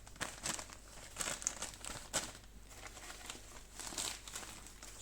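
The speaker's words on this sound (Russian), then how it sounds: "Мох с фагнумом бывает вот в таких кулечках." A small plastic bag of sphagnum moss crinkles and rustles in soft, close, irregular handling bursts, quiet and with no talking.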